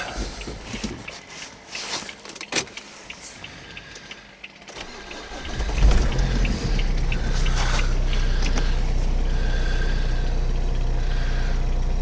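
A Renault Espace engine cranks and fires about halfway through after quieter handling noises, then settles into a steady, fairly close idle rumble.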